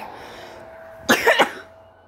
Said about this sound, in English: I hate these coughs